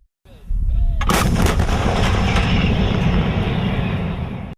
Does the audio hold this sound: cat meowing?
no